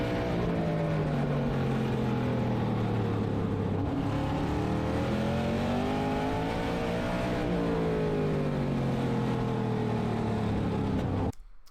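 Super modified race cars roaring around a short oval track, engines rising and falling in pitch as they rev through the turns, loud and continuous before cutting off abruptly at the end.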